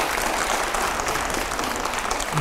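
Audience applause at a farmers' gathering, a dense steady wash of clapping that holds evenly throughout with no voices over it.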